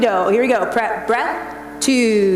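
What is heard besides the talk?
No everyday noise stands out behind the speech.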